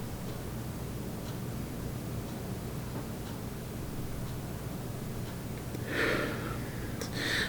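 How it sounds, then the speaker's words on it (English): A few quick, close nasal sniffs over a glass of Spiral Bound DIPA, a double IPA from Sapwood Cellars, with a sharper breathy burst near the end against steady low room noise. "One more sniff."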